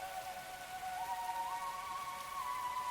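Steady, soft rain hisses in a video game scene, an even patter of drops with a faint tonal hum threaded through it.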